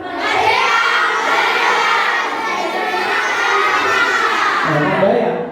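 An Indonesian-language school class shouts a slogan in unison, a loud, sustained chorus of children's voices that carries with crowd-like energy for several seconds.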